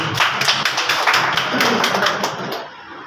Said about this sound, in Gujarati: આ બધા માટે પહેલા તો તાળી થઈ જવું જોઈએ